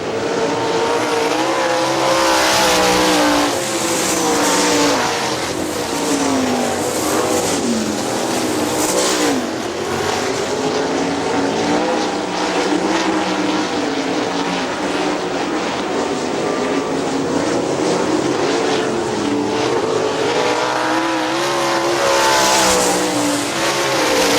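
410 sprint cars race at Hartford Speedway Park in Michigan, their engines roaring loud and unbroken, swelling and dipping as the pack sweeps past on the oval.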